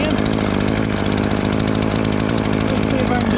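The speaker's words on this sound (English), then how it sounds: "Nah, it's a chainsaw." An ECHO CS450P chainsaw runs at high revs while clearing sticker bushes, a loud, continuous buzzing whine held steady and close.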